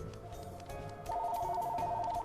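A telephone in the PSP game Daxter rings with a repeating electronic warble, pulsing rapidly at a steady rate over faint background game sounds.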